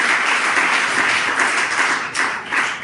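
A church congregation clapping in praise, a close, dense patter of hands with slight surges and a brief dip near the end, no voices on top.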